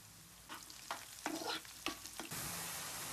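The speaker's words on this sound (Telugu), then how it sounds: "ముందుగా ఆయిల్ పోసుకుందాం, చెక్క ఆకు వేసుకుందాం, ఉల్లిపాయ వేసుకుందాం, పచ్చిమిర్చి వేసుకుందాం, ఇందులో 2 కరివేపాకు వేసుకుందాం" Oil, bay leaf, onions, green chillies and curry leaves are dropped into a hot pan for a Telangana-style chicken liver fry. Stirred bursts of crackling build into a loud, steady sizzle, close by, with no voices.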